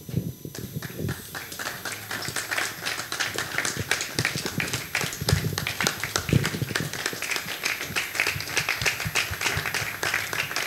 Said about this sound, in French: Nous acclamons le Seigneur.